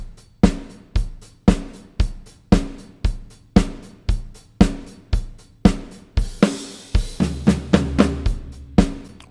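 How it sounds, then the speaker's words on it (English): Drum kit playing three bars of a steady groove with evenly spaced kick and snare hits, then a busier one-bar fill of rapid tom strikes near the end, close and loud with no talk. "what you're about to hear is 3 bars of a groove and then a 1 bar drum fill"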